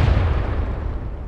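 Tank firing in Arma 3, a heavy booming discharge at the very start that rolls into a dense low rumble and fades away over about a second.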